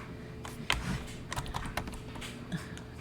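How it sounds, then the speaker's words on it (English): Steady typing on a computer keyboard while composing an email, quick irregular key clicks with an occasional heavier tap on the space or enter key, close and moderately quiet, with no voices. "Let's go ahead and type an email."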